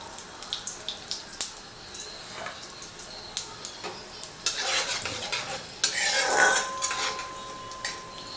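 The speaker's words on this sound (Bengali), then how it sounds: "তো ঘিটা গরম হয়ে গেছে। এবারে প্রথমেই আমি দেব গোটা জিরে, আর দিচ্ছি হিং।" Whole cumin seeds and asafoetida fry in hot ghee in a pan, a soft continuous sizzle punctuated by light clicks and scrapes of a spoon stirring, swelling briefly louder midway; no talking.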